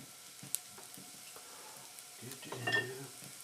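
Red onions fry in a couple tablespoons of olive oil, with a soft sizzle under light clinks and scrapes of stirring. A louder burst of stirring and sizzle follows, all faint and close.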